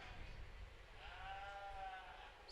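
Sheep bleating in a county fair sheep show barn, a drawn-out wavering bleat rising over steady crowd and hall noise, with faint voices in the background.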